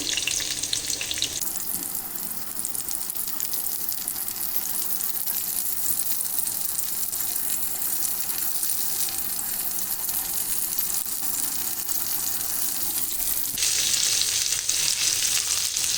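Round-sliced onion rings fry in a pan with a steady, dense sizzle that carries on without break, growing a little brighter and louder near the end, with no talking over it.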